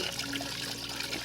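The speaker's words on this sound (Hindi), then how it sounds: "तो हमारे पास जितने पानी के डिब्बे थे हमने सारे भर लिए" Cold water from a mountain stream in a high meadow trickles and splashes steadily while containers are filled at a camp, a close, continuous rush with no talking.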